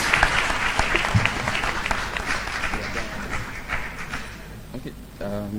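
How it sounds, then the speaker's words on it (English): An auditorium audience claps for contestants, a crowded patter of applause that gradually fades, with a voice talking over it and a tonal sound entering near the end. "A round of applause for them, please."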